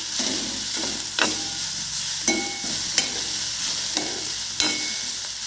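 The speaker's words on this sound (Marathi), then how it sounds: "शेंगाला आपण 5 मिनिटं परतून घेऊया. भाजून घ्यायचे." Green bean pods roast in a hot pan, a steady close sizzle broken by regular scraping strokes of a spatula about once a second.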